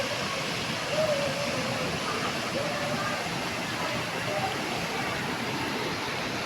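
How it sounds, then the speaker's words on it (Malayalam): Vattayi waterfall, a seasonal waterfall in forest, gives a steady broadband roar of falling water, constant and fairly close, with no voices. "ഒരു സീസണൽ വെള്ളച്ചാട്ടമാണ് ഈ കാണുന്ന വട്ടായി വെള്ളച്ചാട്ടം"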